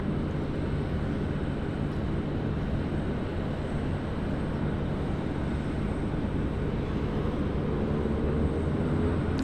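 An airliner takes off from runway 16 at Sydney Airport, a constant loud broadband jet roar holding steady throughout without any voices.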